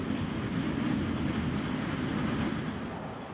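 A Gotthard railway anniversary special train passes in the rain, a broad, loud rumble and rush that holds steady, then begins to fade as it moves away.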